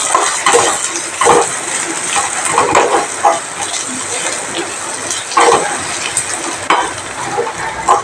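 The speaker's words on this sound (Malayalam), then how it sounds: "കാൽ സ്പൂണ് മഞ്ഞൾപ്പൊടി ഇത് മാത്രം ഇട്ട് ഒന്ന് വഴറ്റിയെടുക്കണം" Chilli, pepper, fennel and turmeric powders sauté in hot oil in a pan for prawn roast. A loud continuous sizzle runs under repeated scraping strokes of a spoon against the pan.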